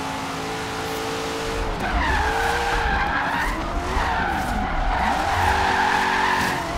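Tires squeal in long, wavering screeches as a Corvette drift car slides through corners on the Goliath circuit in Forza Horizon 3, with the engine droning underneath.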